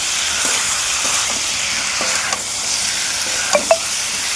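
Close, steady sizzling hiss of a vegetarian dish stir-fried with whole garam masala in a pan. Scraping strokes of the spoon repeat through it, and a couple of sharper clinks come near the end.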